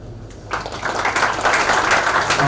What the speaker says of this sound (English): So I guess we all expect a huge round of applause